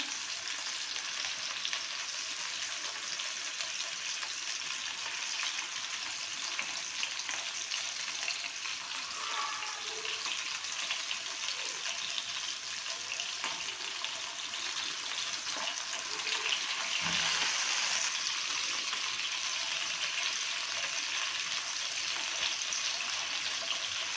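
Mutton gola kababs, made with finely minced meat and papaya, frying in a pan as they are turned on every side: a steady, close sizzle runs throughout with occasional soft scrapes, and no one speaks.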